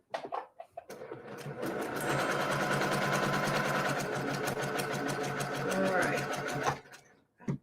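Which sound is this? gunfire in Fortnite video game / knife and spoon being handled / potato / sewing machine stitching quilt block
sewing machine stitching quilt block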